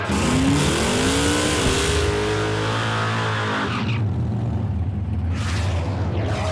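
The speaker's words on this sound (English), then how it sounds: "Some noise for a burnout like that." An old, beat-up car's engine roars at high revs with screeching tire squeal during a burnout at a Las Vegas strip, loud and sustained, the pitch rising and falling.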